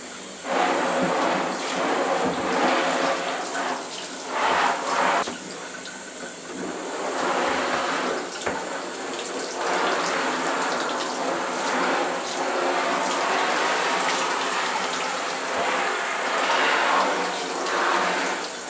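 Steady running water from a tap splashing continuously for a long stretch, close by, with shifting gushes as a sheet of Arches 140-pound cold-press watercolor paper is held under the stream.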